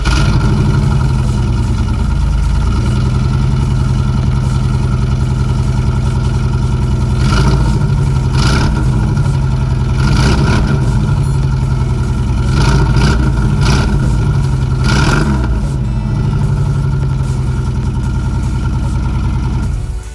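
A 1997 Chevrolet Camaro's L36 V6 engine idles steadily through its exhaust, rising in several short revs before settling back, loud and close.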